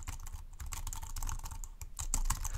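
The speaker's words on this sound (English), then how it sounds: "What about the typing experience now?" Quick, uneven keystrokes clatter on a 1byOne ultra-slim Bluetooth keyboard, close up and fairly loud, with little damping on each tap.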